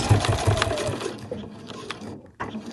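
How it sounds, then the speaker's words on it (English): A sewing machine stitches a backpack seam up close, a brief burst of rapid needle chatter that slows and stops, followed by quieter handling sounds. "So I've stopped sewing there"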